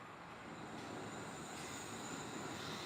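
Steady, dense rumble of the Wuppertal Schwebebahn suspended monorail running, with a continuous broadband roar and faint high whine throughout, no voices.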